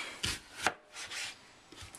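Knife chopping an onion on a board in a home kitchen while cooking eggs with veggies: a few sharp, separate cuts with short pauses between them, close and fairly quiet, with no talking.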